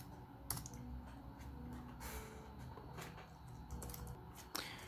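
Computer keyboard typing, a run of soft, close keystrokes tapped at an irregular pace, with one or two sharper clacks near the end, and no voices.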